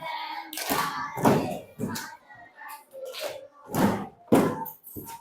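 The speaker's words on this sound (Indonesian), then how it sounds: "Sebelumnya tepuk konsentrasi dulu, tepuk konsentrasi." A school class does a concentration clapping routine, clapping in a quick rhythmic pattern, sharp bursts of hand claps alternating with pauses, with voices chanting along.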